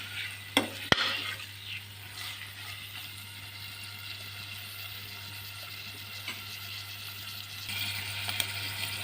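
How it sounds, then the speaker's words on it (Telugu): Prawns and amaranth stems frying in a pan, giving a soft steady sizzle with occasional scraping stir clicks near the start and end, no talk. "వేగుతున్నాయండి"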